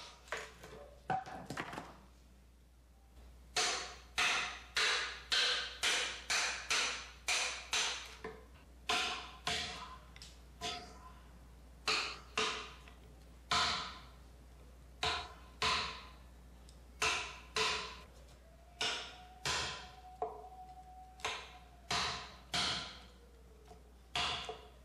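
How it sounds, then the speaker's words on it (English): Sharp hammer blows strike a chisel in steady bursts, splitting a wooden rafter like a wedge, dozens of crisp knocks with short pauses, close and clear against a quiet background. "then split using a hammer and chisel like a wedge"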